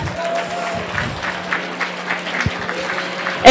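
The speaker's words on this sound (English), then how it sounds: "Give a big round of applause for everyone in the room." Applause from an audience at a medical school Match Day celebration, honoring family and friends in the room; steady clapping runs throughout with a low hum beneath and a louder burst right at the end.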